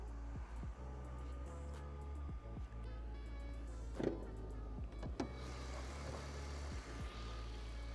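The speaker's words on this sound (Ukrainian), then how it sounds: "моторчик реально просто шепчет" A car engine idles with a steady, low, even hum throughout, joined by a few scattered clicks and light mechanical rattles close by.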